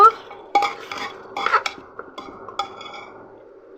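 Desi chicken pieces being stirred with spices in a pan, a utensil scraping and clinking in uneven strokes with a quiet sizzle underneath, fairly close.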